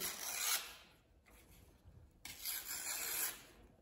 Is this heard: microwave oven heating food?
no